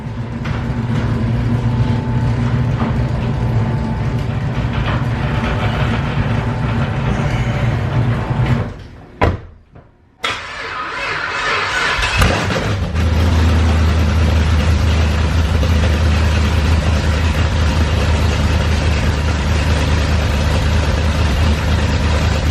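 A straight-piped drag car's engine idles loudly and steadily with a deep low rumble, briefly cutting out or dropping away before settling back into a heavy, continuous drone.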